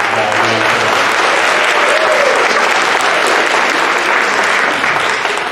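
A big round of applause from a show audience for two helpers returning from the stage, loud sustained clapping filling the room for several seconds with no talk over it.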